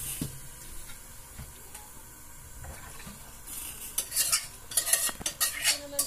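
Cooked spaghetti for an ube pasta tipped into a kitchen strainer, soft scraping and stirring at first, then a louder burst of splashing, clattering pasta and metal in the last two seconds, no talk.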